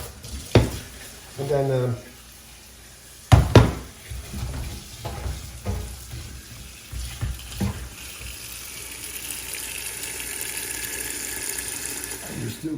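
Tap water running over rice being washed in a kitchen sink, rising from faint splashes to a steady stream, with clattering handling noises and someone talking between them.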